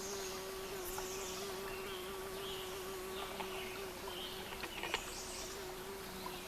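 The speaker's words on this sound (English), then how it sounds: "And there's a bee buzzing me." A bee buzzes with a sustained, steady drone close by on a trail near a stream's headwaters in Shenandoah National Park, with faint outdoor background.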